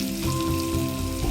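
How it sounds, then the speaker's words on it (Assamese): Stuffed bitter gourd fries in hot oil in a pan, an Assamese dish, giving a steady close sizzle and crackle with a faint hum running under it. "ফ্ৰাই কৰি"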